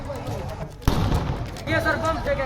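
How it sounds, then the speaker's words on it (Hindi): A sudden loud bomb blast cuts through commotion and voices during communal clashes in Sasaram, followed by rumbling noise and people talking. "बम की आवाज आई, धमाका जोरदार हुआ।"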